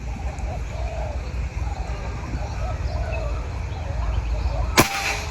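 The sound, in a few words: air rifle shot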